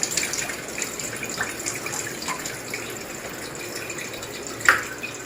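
Water steadily filling a machine tank, pushed in by a running motor pump during an SD 501 cleaning process; a continuous low gushing flow with faint drips and a brief louder splash near the end, no voices.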